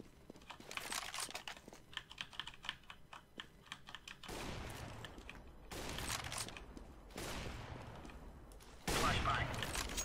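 Gunfire in CS:GO, with a few close bursts of shots and sustained rattling volleys alongside quick clicky keyboard-like taps, busy and fairly near, with talking over the match.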